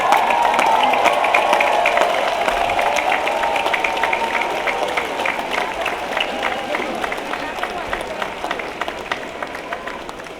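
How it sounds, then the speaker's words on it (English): Graduating students at a university commencement ceremony applaud in a large, reverberant outdoor crowd, with bright, dense clapping that starts strong and slowly tapers, scattered individual claps and faint cheers and voices mixed in. "give a round of applause to those who helped you on this journey"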